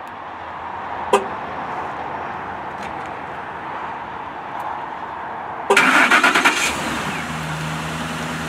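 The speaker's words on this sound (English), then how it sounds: "we'll get this vehicle started up" A 2011 Lincoln Navigator is started by remote starter: after a quiet stretch with a faint click, the engine cranks briefly and catches, then settles into a low, steady idle heard from close by.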